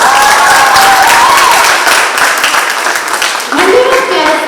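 Audience applause at a farewell function for outgoing students at Nav Sadhana Kala Kendra, a broad steady wash of clapping from a crowd, loud and continuous throughout, with faint background voices mixed in.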